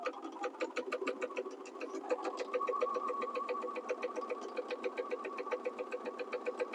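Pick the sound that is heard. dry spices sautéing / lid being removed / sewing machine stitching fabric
sewing machine stitching fabric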